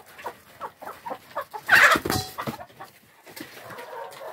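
A chicken being caught by hand in a yard gives a short run of clucks and then a louder squawk in the middle, with soft rustling, heard fairly close.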